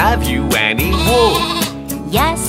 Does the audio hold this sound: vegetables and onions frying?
no